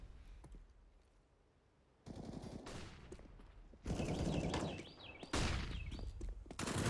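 AK rifle gunfire during a Counter-Strike match on Overpass, with loud bursts of rapid automatic shots that grow heavier and more layered toward the end, mixed with other weapons and game sounds.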